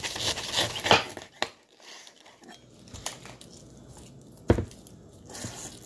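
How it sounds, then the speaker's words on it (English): A knife sawing through a ripe pineapple, with crunchy fibrous cuts and a few sharp crackling chops, close and moderately loud with quieter gaps between strokes. "So see if I can cut this with this knife"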